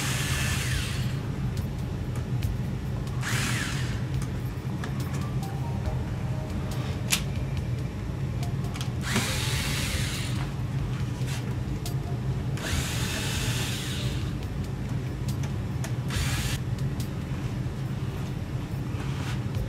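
A power screwdriver backs Phillips screws out of the brackets on a Sony KD-65X750H television, whirring in about five short, loud bursts separated by quieter pauses with a steady background hum.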